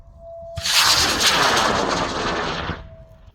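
Amateur scratch-built model rocket launching at a rocketry event, its motor bursting into a loud, sustained roaring hiss for about two seconds before cutting off abruptly.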